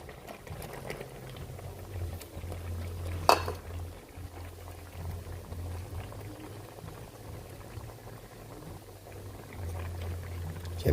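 Beef kare-kare broth with eggplant bubbling at a steady boil in a pot, a continuous low simmering rumble with a faint clink partway through, no voices.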